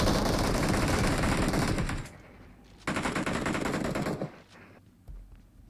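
Rapid bursts of automatic gunfire in the PUBG Mobile video game, loud and sustained, cutting out briefly before a second long burst and a short final one, with no talk over the shooting.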